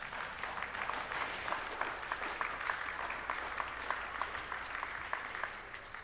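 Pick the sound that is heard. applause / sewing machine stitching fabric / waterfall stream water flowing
applause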